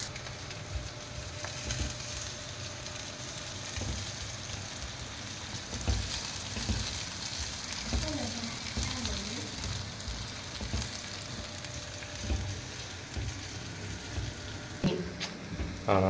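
Small shallots sizzle steadily in hot oil in a pan as they fry toward brown, a continuous dense crackle with occasional stirring clinks and no talk.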